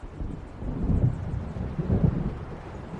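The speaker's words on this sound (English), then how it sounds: "It seems there's a storm coming." Thunder rolling from an approaching storm in Alan Wake Remastered, low deep rumbles swelling twice over a steady windy background.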